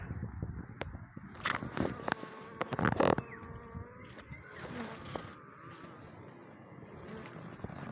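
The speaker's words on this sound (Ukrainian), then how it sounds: "Бачите, реєва бджола, як висіла, так і висить." Honeybees buzz at a hive where a colony sits in swarming condition, a steady close insect drone with a few louder bursts near the start and no talking.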